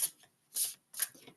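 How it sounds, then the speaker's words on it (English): A deck of oracle cards is shuffled in three quick riffling bursts with short pauses between them, soft, close and with no talking. "let's shuffle"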